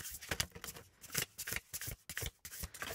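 Tarot cards shuffled close up in rapid, crisp riffling bursts with soft slaps as cards fall, quiet and with no speech.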